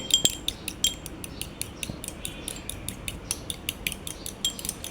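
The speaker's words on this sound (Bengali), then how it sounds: "তো একটা ডিম যেহেতু আমি কাঁটা চামচ দিয়ে করে নিচ্ছি" A fork whisks an egg against the side of a bowl, a steady run of light, bright metallic clinks with no voices.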